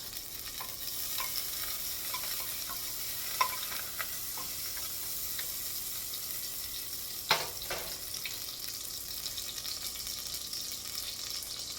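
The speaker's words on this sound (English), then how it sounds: "2 tablespoons of butter into the pot. And let that melt." Two tablespoons of butter melting in a pot for condensed cream of chicken soup give a soft, steady sizzle, with occasional utensil clicks and a couple of sharper clinks against the pot.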